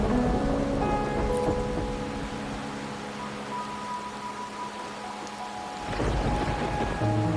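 Rain falls in a steady hiss under low thunder-like rumbling, with faint tonal hum in the background and a heavier swell near the end.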